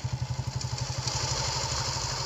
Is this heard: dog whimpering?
no